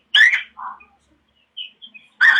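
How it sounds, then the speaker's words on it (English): Birds chirping in a few short bursts: a louder call at the start, scattered small tweets in the middle and another louder burst at the end, separated by quiet gaps. "I think they're birds."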